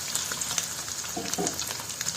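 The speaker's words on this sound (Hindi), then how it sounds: "सभी पनीर के टुकड़े को डालकर इसे फ्राई कर लेना है" Paneer pieces fry in hot mustard oil in a pan over a medium flame, giving a loud, continuous sizzle and crackle with a few brief stirring knocks.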